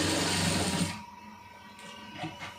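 A sewing machine stitches a seam on a straight cigarette pant, a brief fast whirring burst for about a second, then stops, leaving quiet room noise.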